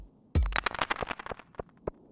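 Mummy enemies in the Stardew Valley video game give off a burst of rapid crackling, clattering hits that starts suddenly and thins out into scattered taps over about two seconds.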